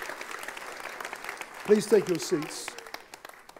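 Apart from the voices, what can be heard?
church congregation applauding, a clap offering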